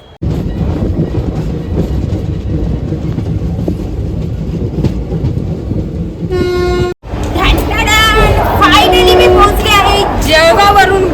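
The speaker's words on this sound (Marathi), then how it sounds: "ही जी ट्रेन आहे oh, ही लागली आहे आता ह्या ट्रेनमध्ये आम्ही जाणार आहोत" A passenger train between Bhopal and Ujjain rumbles steadily at close range, then a horn blast sounds, followed by louder clattering and squealing of the carriages as the train moves, with people talking over it.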